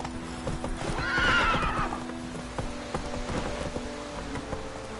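Roach, a horse in a video game, gallops with rapid clip-clopping hooves and lets out one loud whinny early on, while the hoofbeats keep going underneath.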